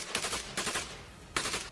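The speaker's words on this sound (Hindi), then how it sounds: "रेल की पटरियों के बीच खड़ा चेचन लड़ाका एक तरफ निशाना लगाकर गोलियां चलाता नजर आया" Bursts of rapid automatic gunfire from a Chechen fighter shooting while standing between railway tracks, three loud volleys broken by brief pauses.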